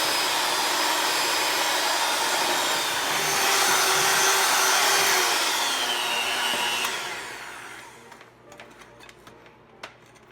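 An electric mixer beats tres leches cake batter at a raised speed, a loud steady whirring whine that runs for several seconds before winding down and stopping, followed by a few light clicks.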